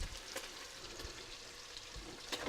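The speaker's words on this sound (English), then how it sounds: "So we're going to cook the beef. And basically what you're doing is you're just sealing it." Beef sealing in a hot pan for a beef stew, a steady close sizzle and fry with light stirring noises, heard alone without talk.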